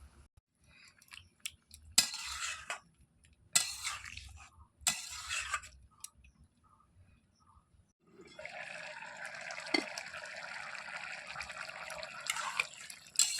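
Water poured into a pan of bottle gourd and shrimp curry: a few clanks and wet stirring sounds first, then a steady rushing pour of liquid that runs for several seconds, close and fairly loud.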